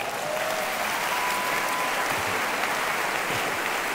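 A church congregation applauds steadily, a dense, even clapping from a large crowd that holds at the same loudness throughout, with no pause.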